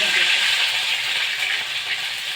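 Ground spice paste of mustard, green chili, garlic, onion and cumin fries in a pan, giving a bright, dense sizzle that stays loud and steady throughout the short stretch.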